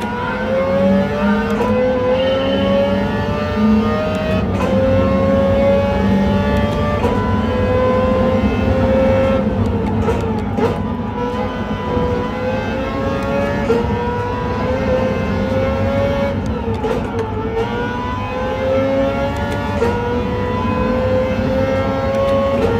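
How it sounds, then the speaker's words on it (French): Race car engines in Gran Turismo 7 roar continuously and loudly, with rising and falling revs as cars accelerate and pass, played back in a cinema. "Le moteur vous hurle dans les oreilles"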